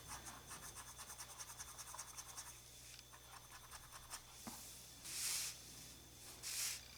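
Paint is rubbed onto the metal parts of a Radio Flyer wagon with quick, scratchy back-and-forth strokes, close and faint, followed by two louder, brief brushing swipes near the end.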